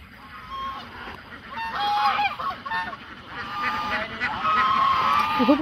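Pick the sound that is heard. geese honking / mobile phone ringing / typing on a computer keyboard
geese honking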